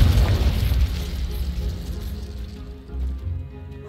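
A Confringo fire spell explodes in the video game Hogwarts Legacy, a heavy boom with a rumbling burst that slowly fades, then a second thud near the end.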